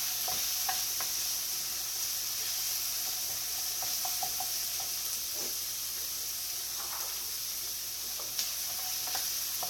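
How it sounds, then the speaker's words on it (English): Sun-dried tomatoes and onions sauté in a pan, giving a steady, moderate sizzle with a few scattered clicks and stirring scrapes throughout, and no voices. "I'm going to put now the sun-dried tomatoes in the onions. I'm going to saute that a little bit."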